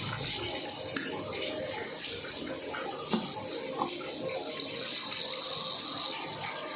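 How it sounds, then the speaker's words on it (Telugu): Hot water pours steadily onto soaked tamarind in a kitchen bowl, a continuous close liquid splash and trickle with a few small knocks, no talking. "కొన్ని వేడి నీళ్ళు పోసుకున్నట్టయితే చాలా మంచిగా ఉంటుంది"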